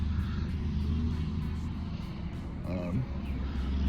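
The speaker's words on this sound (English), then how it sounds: "you can hear one of my other trucks just took off too" A Freightliner semi truck pulling away at 5 a.m. gives a steady low engine rumble with a slight rise in revs near the end, heard under a nearby idling cab hum.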